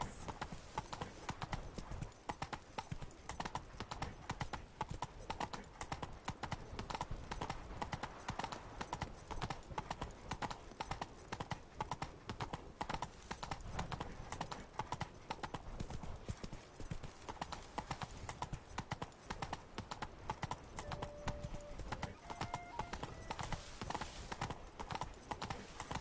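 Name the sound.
horse Roach galloping in the video game The Witcher 3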